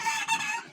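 Chickens on a poultry farm give a short burst of close, busy clucking, several birds calling at once and fading briefly.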